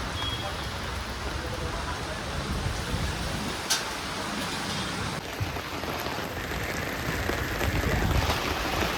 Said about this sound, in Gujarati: વરસાદ ચાલુ થઈ ગયો છે જોરદાર